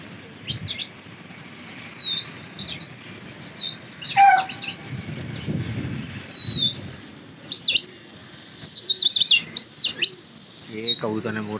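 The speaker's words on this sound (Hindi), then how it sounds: "कबूतर बिल्कुल मस्ती में उड़ रहा है।" A pigeon flaps its wings in flight outdoors among repeated loud, sweeping whistle-like calls in several bursts, with faint background noise and no clear talk.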